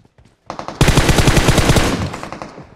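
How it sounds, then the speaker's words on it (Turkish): Enemy fire in the mobile battle game PUBG Mobile: a few scattered shots, then a loud, sustained burst of rapid automatic gunfire lasting over a second before trailing off, close and forceful. "Bana sıkıyor."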